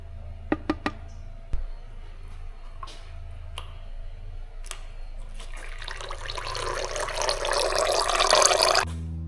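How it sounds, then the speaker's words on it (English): Gearbox oil from a Nissan draining into a clean receptacle during a clutch job, starting with a few sharp clicks and drips, then swelling into a steady, rising trickling pour. "I'm just going to drain the gearbox oil into a nice clean receptacle."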